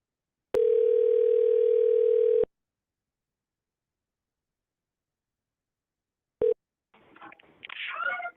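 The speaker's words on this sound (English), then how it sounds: "All right, let's keep dialing." A telephone dial tone hums steadily for about two seconds while a call is being placed, then cuts off; a short tone blip follows after a silent gap, and faint speech comes through the line at the end.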